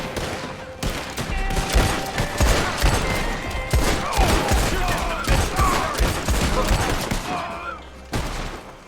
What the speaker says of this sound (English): we got a little shootout on our hands